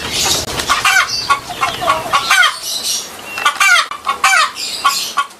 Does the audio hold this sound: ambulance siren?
no